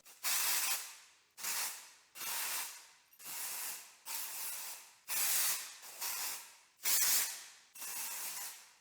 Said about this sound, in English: we're gonna use dry shampoo first